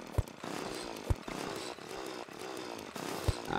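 Continuous whirring drill from Terraria mining orichalcum ore, a steady buzzing engine-like drone with sharp low thumps recurring roughly every second, no voices.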